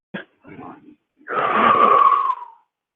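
A person breathes audibly during a Pilates exercise: a short sharp intake, a softer breath, then a longer whistling, wheezy breath lasting over a second, close to the microphone.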